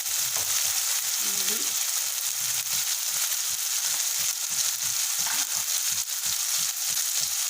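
Ginger garlic paste fries in a pan with a constant loud sizzle, broken by soft scraping strokes of stirring, while a paneer and spinach dish is cooked.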